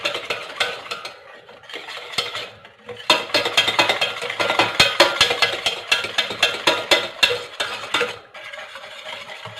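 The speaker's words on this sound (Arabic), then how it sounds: "خلطو مزيان كينسجموا العناصر" Batter for choux pastry made with milk and without butter, stirred briskly in a bowl, giving steady close scraping and clinking strokes. The rhythm is irregular and most intense in the middle stretch, with no talk.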